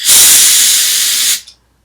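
A spray gun sprays Raptor Liner bed-liner coating on bumpers, a loud close hiss that holds steady for over a second and then cuts off abruptly into silence.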